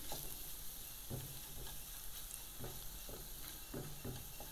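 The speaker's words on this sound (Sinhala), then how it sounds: "දැන් ඔකලන්ට පේනවද මේක බැදීගෙන එනවා" Ginger garlic paste fries in a pan for a chicken dish with green pepper and peanuts, giving a steady close sizzle broken by repeated scraping stirs of a spoon, with no voices.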